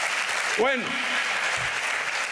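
Church congregation applauding the King during a service, a steady wash of clapping throughout while someone speaks briefly over it.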